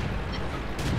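Tank cannon fire in the video game World of Tanks, a brief burst of game gunfire over a dense, rumbling battle soundscape, loud and close.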